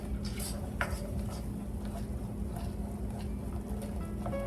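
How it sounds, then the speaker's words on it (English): A spoon stirs a simmering mixture in a pot, with soft scraping and light clinks against the pot over a steady low bubbling and burner hum, close by and without talking. "Give it a good stir."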